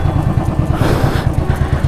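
Motorcycle engine idling and pulsing steadily up close at the end of a long Arunachal bike expedition, a low rhythmic throb with no voices.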